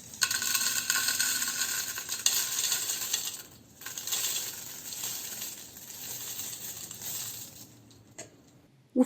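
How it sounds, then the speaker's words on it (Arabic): Dense, crackly crunching and crisp rustling of oven-dried garlic continue steadily, close up, with a short pause midway and a sharp knock at the end. "اسمعوا صوت القرمشه بقى"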